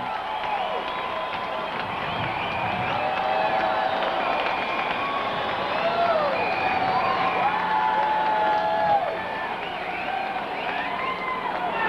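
A large baseball stadium crowd at a Giants–Dodgers game, late in the game and in light rain, roars and cheers continuously, with whoops and shouts rising above a dense, steady wall of noise.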